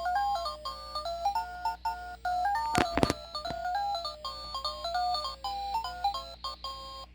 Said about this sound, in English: the sound itself sounds very similar to the arcade version of Dig Dug